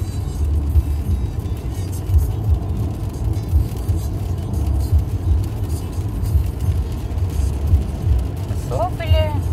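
Steady road traffic rumble of many trucks and cars on a motorway from Italy toward Austria, heard continuously from inside a vehicle, with people talking quietly over it.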